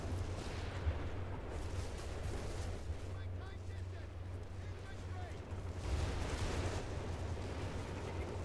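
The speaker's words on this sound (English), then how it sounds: "responding with a searing artillery barrage" Artillery barrage in a video game battle, a dense rumbling wash of distant booms and blasts that swells and fades, with a commentator talking over it.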